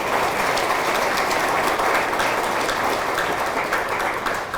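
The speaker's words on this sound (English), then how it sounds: "That deserves applause right there." Steady crowd applause at a high school athletic hall of fame ceremony, dense and continuous clapping from a large audience filling the room throughout.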